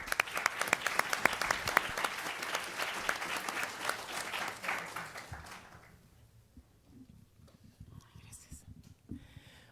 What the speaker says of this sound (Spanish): para quien pido, por supuesto, un caluroso aplauso